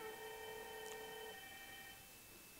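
An office phone rings on an incoming call during a phone-system demonstration, a steady electronic tone layered over a faint background hiss, the ring fading out partway through.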